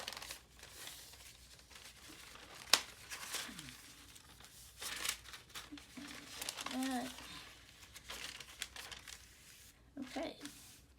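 Paper sheets of a small handmade ephemera booklet being creased into an accordion fold, with soft crinkling, rustling and occasional sharper crackles spread unevenly, close by and fairly quiet.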